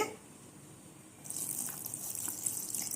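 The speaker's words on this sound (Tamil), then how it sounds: "அதில் கொஞ்சமாக தண்ணி விட்டு" After a quiet moment, water starts pouring steadily into a pot holding goat lungs with turmeric, ginger-garlic paste and salt, a soft, hissing splash that continues to the end.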